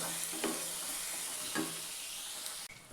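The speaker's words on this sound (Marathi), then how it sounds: "त्याला 1 मिनिटभर चांगलं परतून घ्यायचं, म्हणजे अद्रक लसूण ते चांगलं भाजलं आपलं." Ginger and garlic sautéing in a pan: a steady bright sizzle with a few soft stirring scrapes, close and continuous, then a brief drop near the end.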